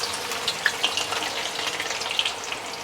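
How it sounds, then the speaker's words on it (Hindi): Onions frying in a large quantity of hot oil for a chicken pulao, a continuous bright crackling sizzle with scattered sharp pops, close and fairly loud, no talking. "ये प्याज हम इसमें डाल के लाल कर लेंगे।"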